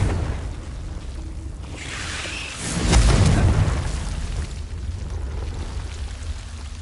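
Confringo fire spell blast from Hogwarts Legacy, a rising whoosh that bursts into a loud booming explosion midway, then a rumbling decay over a steady game ambience.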